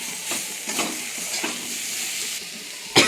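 Chopped tomatoes with ground coriander and spices fried in a pan, a close sizzle with rhythmic stirring scrapes every half second or so and a sharper clink at the end, no talk.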